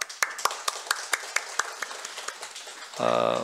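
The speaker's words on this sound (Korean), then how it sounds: "박수로 우리 격려하겠습니다" Rhythmic clapping from a church congregation during Sunday morning service announcements, a series of distinct, evenly spaced claps that thin out, then a voice begins speaking at the end.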